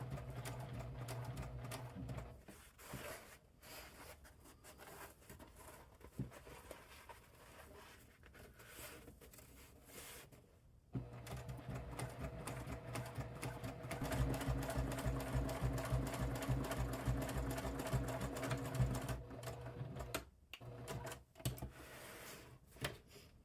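A sewing machine stitches a seam in treated canvas for a dry bag, running in steady rapid bursts with short pauses and a longer stretch of continuous stitching, close and clear with no talk.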